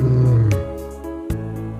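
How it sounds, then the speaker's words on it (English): A lion gives a short, deep, rumbling roar that swells and then fades within about two seconds, loud and close, with no talk over it. "Lion."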